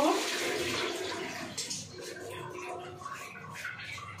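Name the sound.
washing pointed gourds (potol) in water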